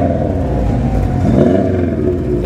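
A 1987 Subaru engine, stated as an EJ20G, revs steadily with a loud, close, continuous low rumble and whir that swells slightly midway; no one speaks.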